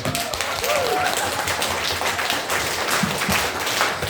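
Steady applause from a village audience at a charity concert in Zhulychi fills the air, dense and continuous, loud and close, with faint talk mixed beneath the clapping.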